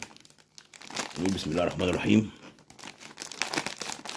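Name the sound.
opening a Lulu Puffs tomato snack bag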